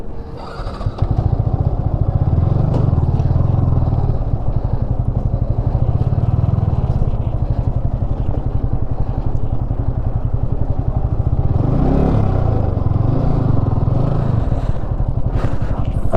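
A KTM RC390 motorcycle with a touring setup runs nearby, its steady single-cylinder engine thrumming loud and close for the whole stretch with slight shifts in pitch.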